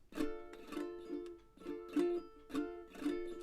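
Acoustic guitar strummed in a steady repeating pattern, each downbeat followed by a quick rippling fan across the strings; soft and close, no voices.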